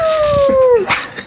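A person's voice imitates a dog howl, a single rising-then-falling drawn-out note close to the microphone, lasting under a second before trailing off.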